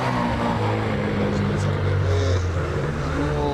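An orange Datsun 1600 race car's engine drones steadily at a hillclimb event, heard under a commentator's voice over a constant outdoor rumble.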